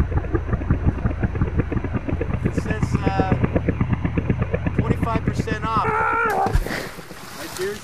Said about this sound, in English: You guys hear that helicopter?